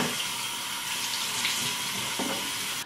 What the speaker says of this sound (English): now I'm going to rinse this off